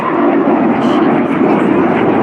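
A Red Arrows BAE Hawk T2 jet flies past during an air display at the Royal International Air Tattoo with a loud, continuous, broad engine roar that holds steady throughout.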